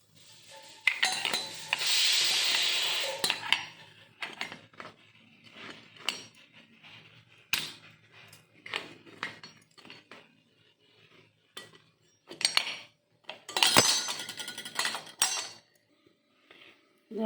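Lemon halves pressed and squeezed in a hand juicer, giving bursts of scraping, rubbing and clinking against metal and dishes, with pauses between squeezes and louder rubbing near the start and end.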